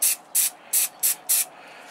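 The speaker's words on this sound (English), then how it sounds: "hold the spray not right close, but quite a distance away, and give it some light dustings" A spray can held well back from a part gives it light dustings: five short, even hissing bursts with brief pauses between them, close and clear, with no voices.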